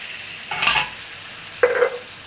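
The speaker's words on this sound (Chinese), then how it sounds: "三层肉，把它爆出油" Pork belly sizzles in a pan as its fat renders, with two short bursts of stirring and frying about a second apart over a quiet background hiss.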